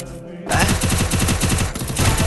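Video game gunfire from a sniper, a loud, close burst of rapid shots that starts abruptly and keeps crackling steadily until the end.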